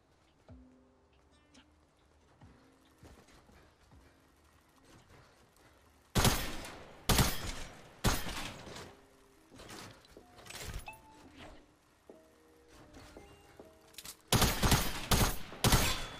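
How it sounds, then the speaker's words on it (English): Burst-fire weapon from the Fortnite battle royale video game shooting in loud, rapid volleys, with three clusters of shots around a quieter stretch of faint game ambience. "But here is the gameplay of the gun."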